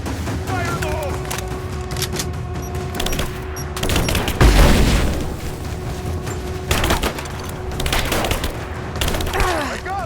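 Combat gunfire in Rise of the Tomb Raider: a dense, continuous run of shots and bursts with a heavy boom around the middle, layered over steady background game sound and no clear speech.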